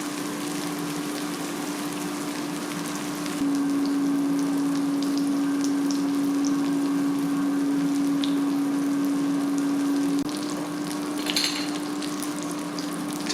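Provoleta cheese frying in oil in a pan on residual heat, a steady close sizzle and crackle with a constant tonal hum through the middle and a small burst of spattering near the end, no talk.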